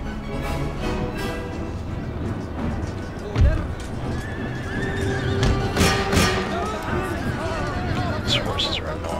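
Horses whinny repeatedly in an Empire: Total War battle, with galloping hoofbeats and busy game noise underneath, loud throughout.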